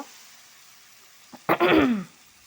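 Mushrooms tipped into hot frying spice paste hit with a sudden loud sizzling hiss that lasts about half a second, then fades to a quiet background after a brief lead-in clatter.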